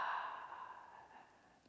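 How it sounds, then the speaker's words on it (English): A single deep breath let out through the mouth during a yoga session, a soft airy exhale that starts fairly strong and slowly fades over under two seconds, close to the microphone. "Take a deep breath in and let the breath go through the mouth."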